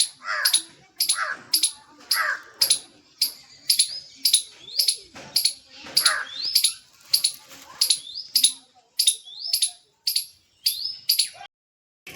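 A squirrel gives a rapid series of sharp, high chirping calls, repeated in a steady rhythm, loud and close with brief pauses.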